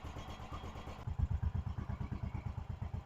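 A vintage British motorcycle, freshly repaired, is kicked into gear and ridden off, its engine giving a steady, pulsing low thump that grows louder and more rhythmic as it pulls away under power.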